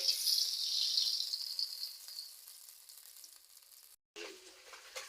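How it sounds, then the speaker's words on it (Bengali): Japanese puti fish frying in oil in a wok, a loud steady sizzle that slowly eases, cuts out briefly near the end, then resumes more quietly. "মাছটা ভাজার জন্য কড়াইতে আমি তেল দিয়ে দিচ্ছি মাছটা আমি তেলের উপরে দিয়ে দিচ্ছি"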